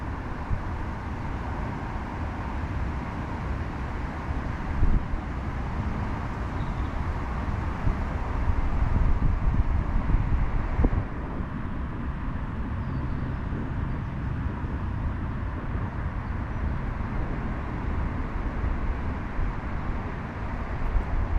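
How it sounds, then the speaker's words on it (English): Steady wind rushes past the microphone for a long stretch at a fishing lake during an open fishing match, a broad low roar that swells a little midway, with no voices. "as soon as it's calm, it's windy again"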